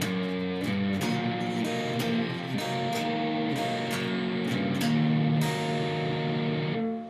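An electric guitar plays the fourth part of a blues shuffle slowly, picking the bottom three strings upward in repeated sustained chord strokes, steady, close and alone.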